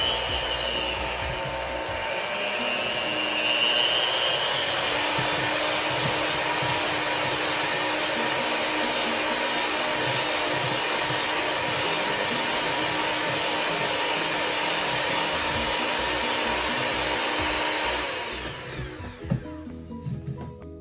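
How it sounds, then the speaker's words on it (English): Stand mixer kneading cinnamon roll dough of bread flour and eggs, a steady close motor whir with a faint rubbing, slapping texture that runs continuously for about eighteen seconds before winding down at the end. "we were going to mix this until it comes up to the cleanup stage."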